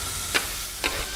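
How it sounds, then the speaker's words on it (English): Olive oil hits a hot pan on a stovetop, giving two short, bright sizzling bursts about half a second apart over a quiet background. "Olive oil. Listen for the sizzle."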